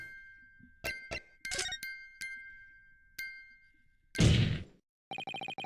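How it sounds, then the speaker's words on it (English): A music box in the video game The Great Ace Attorney Chronicles plays a sparse series of bright metallic chimes and plinks. A brief noisy burst follows, then rapid repeated tinkling tones close the passage. "It's the defense's belief that the sound emanating from this music box is..."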